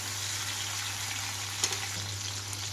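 Tomato fries in a pan of hot oil just after red chillies were fried for a chilli dosa side, giving a steady, even sizzle with a brief clatter partway through.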